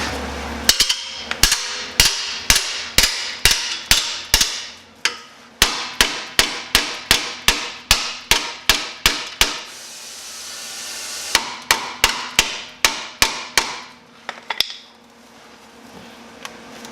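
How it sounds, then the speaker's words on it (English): Hammer blows bending welded steel on a Jeep TJ Wrangler steering box reinforcement plate: repeated sharp metallic strikes in quick bursts, loud and close, with brief pauses between runs of hits and no talking. "we're going to take a hammer and we're going to start bending this around"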